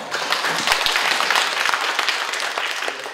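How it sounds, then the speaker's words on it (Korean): Audience applause fills a parliamentary forum, a dense steady patter of many hands clapping at close range, sustained evenly throughout. "박재민 우리 전 차관님께 큰 박수 한번."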